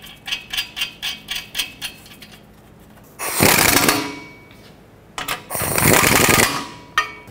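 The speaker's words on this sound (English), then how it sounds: "I'm gonna bottom them out. And then we'll tighten them up." Nuts being run down and tightened on a new exhaust manifold of a 2003-2021 Chevrolet Express van, heard first as a series of rhythmic ratchet-like clicks, then two longer bursts of loud, harsh tool noise, close up with no talking.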